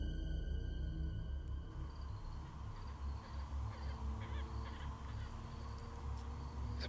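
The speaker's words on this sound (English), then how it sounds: "There's a bird right there." A crow caws repeatedly, moderately loud, amid the steady low rumble of a forest setting, with no talk.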